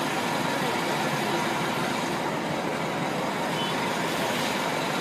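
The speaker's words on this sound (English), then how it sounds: "Look at the buses" New York city buses drive past on storm-emptied streets as Hurricane Sandy locks the city down, a loud, continuous rumbling roll of heavy traffic with no talk over it.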